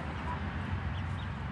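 A mother hen calls her little chicks with low, soft, repeated clucks, heard at moderate volume over steady background noise in a coop.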